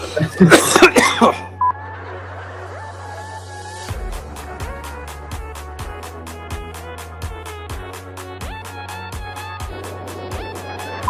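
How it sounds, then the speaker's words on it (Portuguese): A burst of harsh coughing up front, followed by a steady rhythmic pattern of repeated clicks or ticks over a low hum. "Então deixa eu tossir."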